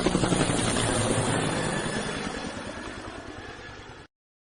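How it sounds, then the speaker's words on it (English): Helicopter rotor and engine noise, a steady loud chopping drone with clattering blades that fades slightly before cutting off abruptly. "this is helicopter sound"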